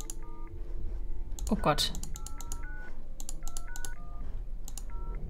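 Short electronic keypad tones from a mobile phone in a German indie adventure game, a dozen or so two-note beeps in irregular bursts, with a person briefly exclaiming partway through over a steady background hum.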